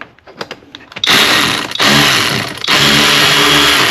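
Power tool driving the belt tensioner bolt on a Mercedes-Benz E350 3.5L, loud buzzing bursts broken by short pauses after a few quiet clicks, with no talk.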